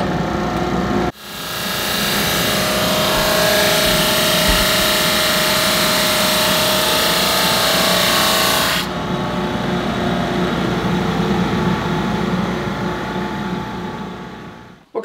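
A drum sander grinds a wooden board as it feeds through the machine in a small shop, a loud steady whir with a gritty rasp that starts abruptly, runs for several seconds, then drops to a lighter motor hum.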